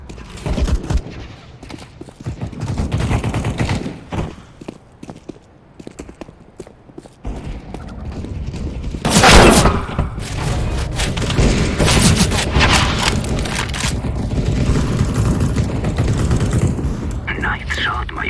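Gunfire in CSGO during a Team Deathmatch round on the Italy map, with rapid shots, booms and steady battle noise throughout. Game voice lines and chatter sound underneath.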